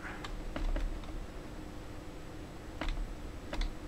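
Keys clatter on a Tiger Learning Computer keyboard, a PS2-like board with an unreliable F7 key, in sparse, uneven bursts of close clicking over a steady hum.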